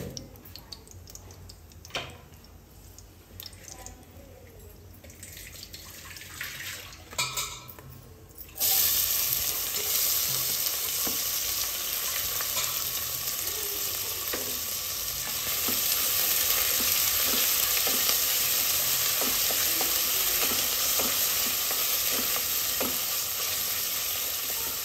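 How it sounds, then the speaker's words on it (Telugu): Sliced onions fry in hot oil for a mutton curry, giving a loud, steady sizzle. It starts after a few seconds of quieter scraping and clinks, then continues with occasional stirring taps. "వీటిని ఒక వన్ మినిట్ వేగనివ్వండి ఉల్లిగడ్డలు కొంచెం మగ్గాయండి"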